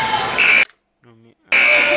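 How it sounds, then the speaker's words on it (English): A sports game buzzer sounds loudly and steadily at a fall sports event, with a brief quiet gap between two blasts and voices in the background. "the buzzer."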